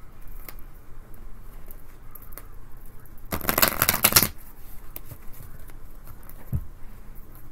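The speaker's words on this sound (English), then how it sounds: "Quick shuffle." A deck of oracle cards is shuffled close by in one quick burst of about a second of riffling patter, set among quiet room tone with a few faint taps before and after.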